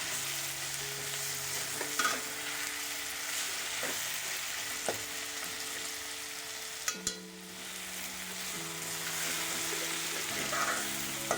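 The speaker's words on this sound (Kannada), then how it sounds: "ಧನಿಯಾ ಪುಡಿ ಅರ್ಧ ಸ್ಪೂನು, ಅಚ್ಚಕಾರದ ಪುಡಿ 1/4 ಸ್ಪೂನು ಹಾಕಿ ಚೆನ್ನಾಗಿ ಫ್ರೈ ಮಾಡಬೇಕು." Vegetables frying with coriander powder and chili powder for masala upma, a continuous close sizzle with repeated scraping and stirring strokes and a few utensil knocks, no talking.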